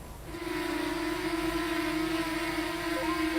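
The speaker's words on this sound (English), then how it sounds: "The motors give off a characteristic screech that sounds like this." A steady, high-pitched whine from FPV drone motors holds a constant tone with a faint buzzing edge, like small electric motors screeching at a distance.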